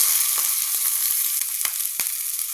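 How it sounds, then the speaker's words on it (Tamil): Mustard seeds and onions fry in a couple of spoonfuls of hot coconut oil, a bright steady sizzle broken by sharp little pops and crackles from the seeds, close and unbroken. "ஒரு 2 கரண்டி தேங்காய் எண்ணெய், கடுகு ஒரு 2 போட்டுக்குவோம், வெங்காயம் போட்டுக்குவோம்"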